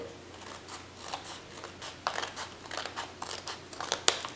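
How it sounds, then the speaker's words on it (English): Scissors snip through the side of a paper envelope in a series of short, crisp cuts with faint paper rustling, close and fairly quiet, no talk. "We have this envelope here, so I am going to cut it from this side."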